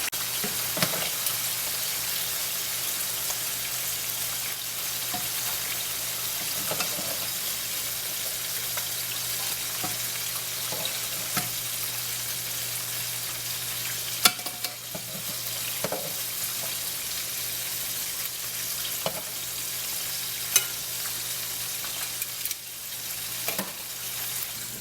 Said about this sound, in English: As you can see, our fries are getting nice and golden brown.